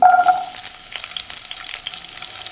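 Onions crackle and sizzle in hot oil, a busy close-up frying hiss with a brief ringing tone at the start and no voices.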